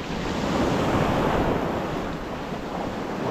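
Sea waves surging and splashing against the shore during a sea bass fishing trip, a steady close wash of churning water with wind buffeting the microphone and no speech.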